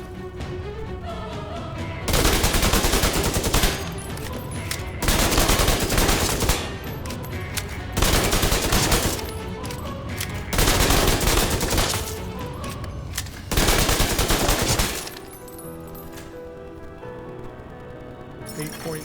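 Submachine-gun fire in the video game The Division 2 comes as several loud, dense sustained bursts lasting a couple of seconds each, separated by brief quieter gaps, with faint game sounds in between.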